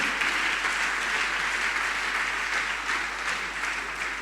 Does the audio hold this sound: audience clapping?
yes